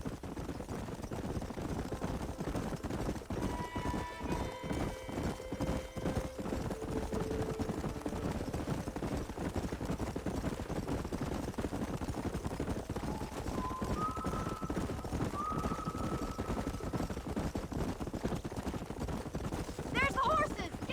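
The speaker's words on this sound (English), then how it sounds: "There's the horses!" Horses running and neighing in the Red Dead Redemption video game, shown as faint clip-clop hoofbeats and brief whinnies. Game music, ambience and speech sit over them throughout.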